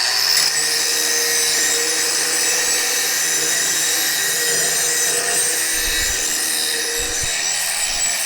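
Abrasive grinding and sanding of steel while building a rear recovery point for a Nissan Xterra: a steady, continuous high-pitched rasp with no pauses, close and loud throughout.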